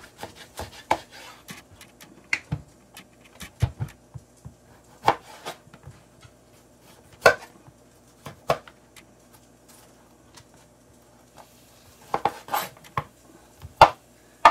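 Knife chopping vegetables for a mixed vegetable sambar, such as eggplant, turnip, zucchini and beans, heard as irregular sharp taps on a cutting board with quiet gaps between strokes, close by and with no voices.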